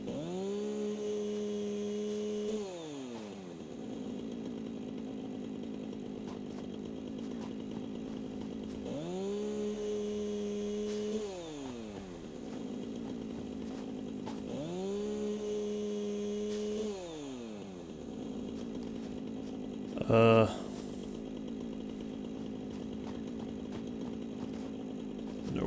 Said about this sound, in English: But I can chainsaw these.